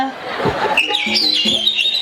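A person mimics a sparrow's chirping with quick, high tweeting calls at a Home Minister village event in Bakshi Hipparge, with a crowd murmuring behind.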